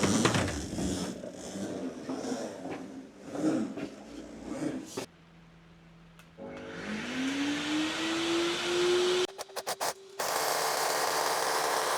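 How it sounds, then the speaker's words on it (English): A new workshop vacuum sucks up dust after a router bit change, starting with a rough roar, then spinning up with a rising whine to a steady loud hum, cut by a few abrupt dropouts. "And I use the new vacuum to suck up the dust."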